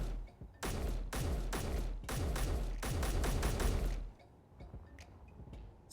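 Rapid chained blasts in the game Space Engineers crack out in quick dense bursts for about three seconds, loud and close, then cut off abruptly to a quieter background with faint ticks.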